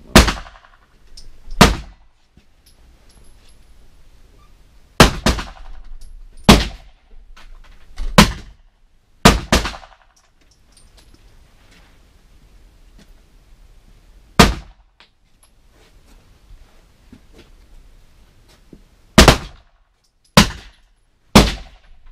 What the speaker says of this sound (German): das hast du mal 5 Schuss pro Minute geschossen, Jan,